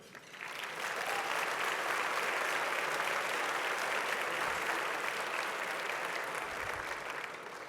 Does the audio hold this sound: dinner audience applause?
yes